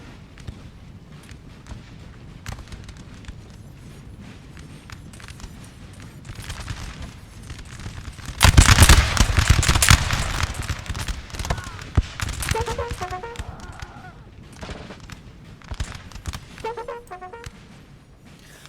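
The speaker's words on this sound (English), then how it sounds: "open fire" Massed musket volleys from French chasseurs crackle in a Napoleon Total War 3 battle recreating Trebbia, 1799, swelling into a dense, loud burst of overlapping shots before thinning to scattered reports and background battle noise.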